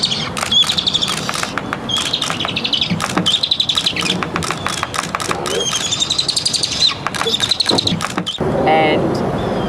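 A mother owl calls for her owlet as the birds fly around a tree after the young one is returned, heard as repeated high chirping and twittering calls, fairly close, with a brief louder rustle near the end.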